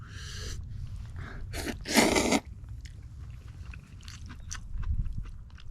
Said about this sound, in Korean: 자 짜장면을 한번 맛있게 한번 먹어보도록 하겠습니다.